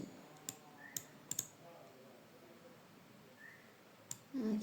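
A handful of sharp, faint computer mouse clicks, sparse and irregular, over quiet room tone.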